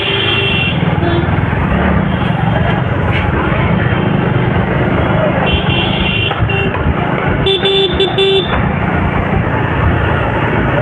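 Loud, constant roar of road traffic with engines droning close by and a few short horn toots, voices faintly mixed in.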